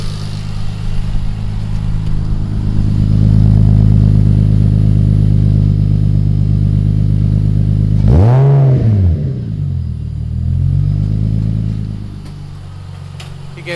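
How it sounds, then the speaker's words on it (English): A car idles loudly with a newly finished custom exhaust, then gives one short, sharp rev that rises and falls before settling back to a steady idle, close up, with no talking. "He gave us a little baby rev."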